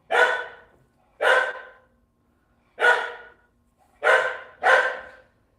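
A dog barks five times in an uneven rhythm, loud sharp barks with clear gaps between them and a quick double bark at the end.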